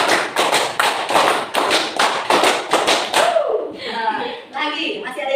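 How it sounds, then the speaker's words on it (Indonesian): Students in an Indonesian classroom clap together in a drilled pattern, three rapid bursts of five crisp claps, loud and near, followed by the teacher speaking and faint children's voices. "tepuk 5 3 kali."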